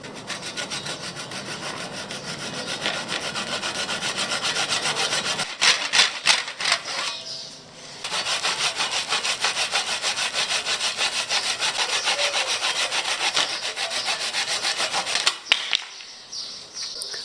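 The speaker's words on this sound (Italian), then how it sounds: "Ora farò un uso improprio di sega giapponese." Japanese pull saw cutting through the plastic decoration on a garden bench backrest: steady, close, raspy sawing strokes running almost without a break, with a brief ragged stretch and a short pause in the middle, no talking.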